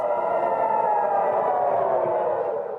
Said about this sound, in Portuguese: as sirenes de alarme acionadas